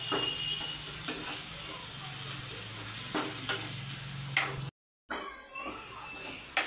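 Onion-coconut masala paste is stirred and fries in a pan, giving a soft, steady sizzle with repeated scraping strokes. A short gap of silence falls near the end.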